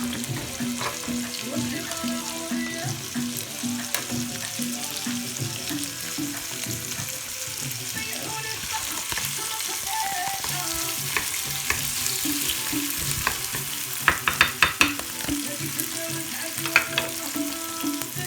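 Chicken and tortilla mixture sizzling and simmering in a pan, a dense continuous crackle of frying with occasional stirring scrapes and a few louder pops near the end, no voices.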